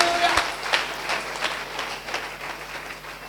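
Church congregation applauding during a worship service, a dense wash of clapping with several louder bursts, steady throughout and fairly loud.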